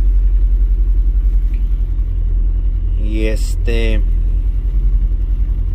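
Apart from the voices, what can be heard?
car engine running after being started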